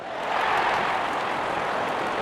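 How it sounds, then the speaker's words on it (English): A cartoon crowd cheers and applauds at an India vs Pakistan cricket match as the openers walk out. The noise is a steady, dense roar that swells early and holds, with no one talking over it. "Openers walking in and the crowd cheering in anticipation"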